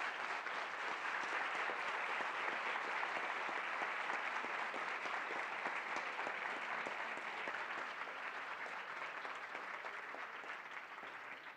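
An audience claps steadily through a lecture event with international correspondents, a dense, even wash of applause that fades slightly toward the end.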